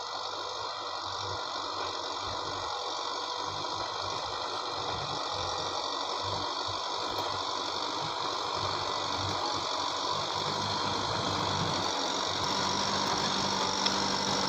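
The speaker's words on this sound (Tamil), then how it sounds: "4 சிலிண்டர் 55 HP உள்ள 4 வீல் டிரைவான குப்போட்டா டிராக்டர்" A four-cylinder Kubota MU5501 55 HP four-wheel-drive tractor engine runs steadily in a farm field, a continuous mid-pitched drone with a faint knocking rumble, heard from moderate distance with no talk.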